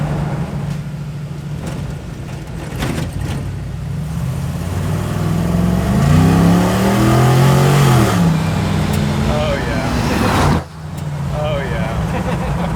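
A 1969 Chevrolet C10 pickup truck accelerates at about three-quarter throttle, its engine rising in a steady, loud roar heard from inside the cab, with people talking over it.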